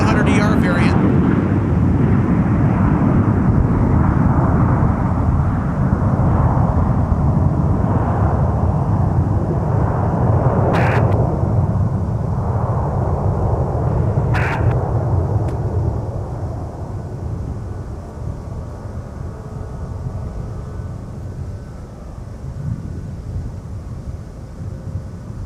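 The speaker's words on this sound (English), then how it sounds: "Got another 737 coming in. It's a 900 ER variant." A Boeing 737-900ER jet arriving at Minneapolis–Saint Paul (MSP) Airport, its engines a loud, sustained roar that fades to a lower rumble.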